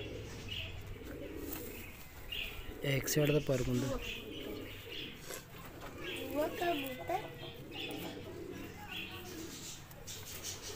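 Pigeons coo softly in a breeding loft, with chirps and small calls scattered through a faint background, while someone talks over them.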